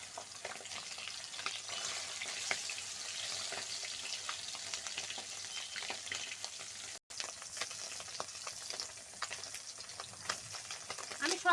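Flipped puti fish keep frying in mustard oil, a soft, even sizzle with frequent small crackles and stirring scrapes, briefly cut by a split-second gap midway, no voices.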